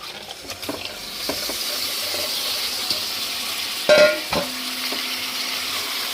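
Goat head curry being slowly mixed in a pan as it fries, a soft sizzle under a few scraping strokes of a spoon and one louder clatter against the pan, with no talk.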